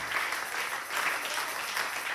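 A church congregation claps together in steady, dense applause during a Spanish-language sermon, a continuous close wash of hand claps with no talk over it.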